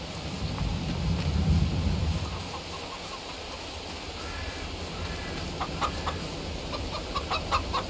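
Chickens clucking and squawking in the farm video game Farming Simulator 22, a steady flock chatter with scattered sharper calls rising toward the end, with no talk over it.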